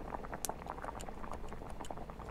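A cooking pot bubbles on a stove inside the horror game The Witch's House, giving a steady low simmer with small pops and bursts spread across the stretch, no voices.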